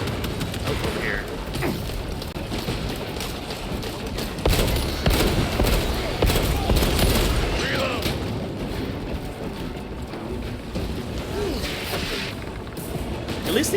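Sustained battle gunfire and heavy impacts from the video game Space Marine 2, with dense overlapping shots, booms and crashes rolling loudly throughout, mixed with faint background voices.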